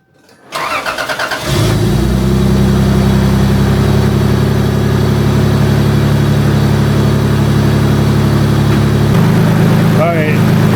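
A 1994 Toyota Supra Turbo engine cranks and catches, then settles into a steady, loud idle with a low rumble that continues to the end.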